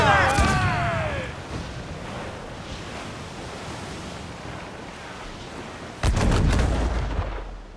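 Naval cannon fire in a pirate ship battle in Assassin's Creed 4: Black Flag, with a loud booming volley at the start and another sharp burst of shots near the end over steady ocean and wind noise.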